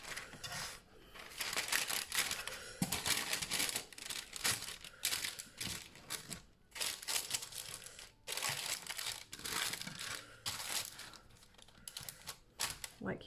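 Baking paper crinkling and crumpling as it is pressed into a baking tin with overhang at the sides, irregular close rustling bursts with short pauses, fairly loud and without talk.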